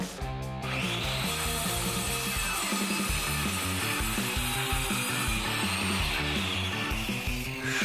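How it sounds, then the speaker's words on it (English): A handsaw rasping through wooden boards in a steady back-and-forth rhythm, loud and close, running almost without pause. "we are about to start sawing"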